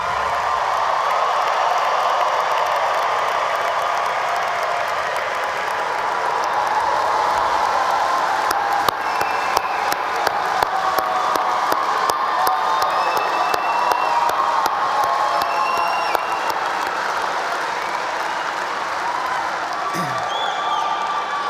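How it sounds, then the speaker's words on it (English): Families and friends applaud graduates at a college of agricultural sciences commencement, a long, loud ovation of dense clapping mixed with cheers, whoops and crowd noise, with a few voices rising above it. "Families and friends, one more time, applaud your graduates."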